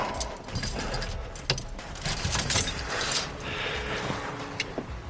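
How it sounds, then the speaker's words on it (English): Keys jangle and clink continuously at close range, with light metallic rattling and a few sharper taps throughout. "let's get the keys in here real quick"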